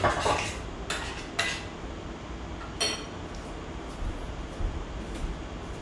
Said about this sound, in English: we're gonna take it and we're gonna stir